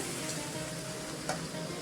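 Water added to a hot pan of frying avarekai beans brings a brief burst of hissing sizzle over a steady low frying background, heard close and quiet.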